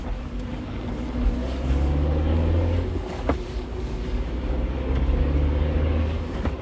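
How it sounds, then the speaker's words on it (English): A car engine drones steadily with a low rumbling hum and rushing road noise, sounding like sustained high-speed driving at a moderate, even level with no voices. "Hearing Priya, Raghav started the car and began to drive at full speed."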